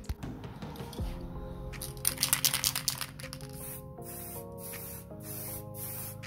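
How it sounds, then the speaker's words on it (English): Yellow gloss spray paint hisses from an aerosol can onto Mercedes brake calipers in short bursts, the can's rattle and sputtering spray heard close up over faint background music. "I've got the spray paint as well, yellow gloss"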